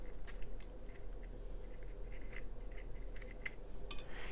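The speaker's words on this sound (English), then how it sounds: "We're going to remove these two screws." Small tool clicks and metallic ticks from screws being worked out of a vintage Zeiss Ikon 211D cruciform mortise lock, quiet and close, scattered irregularly over a low steady hum with no talking.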